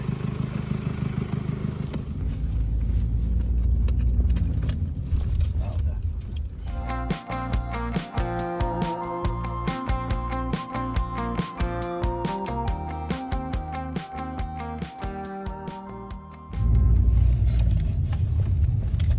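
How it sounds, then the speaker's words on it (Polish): A Mercedes car arriving outdoors in Newcastle upon Tyne, its engine rumbling and rising close by, heard under people talking excitedly. "Uuu, Mercedesik."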